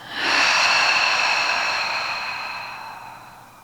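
A single deep breath, drawn in through the nose and let out through the mouth, rising quickly and then fading slowly as a long, close airy exhale with no talking.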